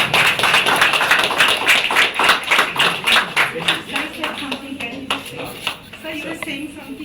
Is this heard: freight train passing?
no